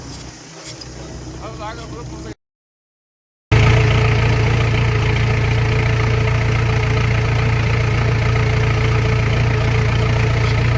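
A tractor engine idles loudly and steadily close by, a continuous low rumble with a short cut-out before it resumes at full strength.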